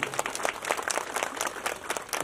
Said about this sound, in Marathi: एकदा त्यांच्यासाठी टाळ्या वाजूया